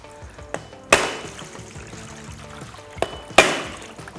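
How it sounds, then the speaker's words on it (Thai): Two sharp, hard chops of a machete striking the middle of a young coconut, spaced a few seconds apart, each with a brief ringing tail over quiet background clatter. "ใช้มีดโต้เนี่ยเราตอกกลางลูกอย่างนี้นะกลางลูกอย่างนี้"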